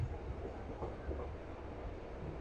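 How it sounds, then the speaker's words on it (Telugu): A Narasapur–Vijayawada MEMU express train (17270) pulls slowly out of Palakollu station with a low, steady rumble of rolling stock and faint rattling. The sound runs continuously at moderate level with no speech. "మన ట్రైన్ అయితే మెల్లిగా పాలకొల్లు స్టేషన్ చేత బయటకు అయితే వచ్చేసింది"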